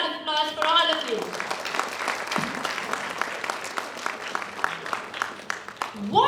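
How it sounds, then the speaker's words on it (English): An audience at a school annual day celebration applauds loudly, with a dense, sustained crowd clapping that fills the clip, and a voice speaks briefly at the start. "A huge round of applause for all of you."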